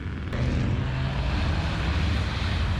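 A mud bogging truck's engine roaring without a muffler, a loud, steady, rumbling low exhaust drone that fills the whole stretch with no talk over it.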